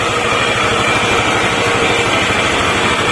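A Yamaha NMAX scooter engine runs with a rough sound, a steady, close, continuous mechanical drone with a dense low rumble throughout and no talking.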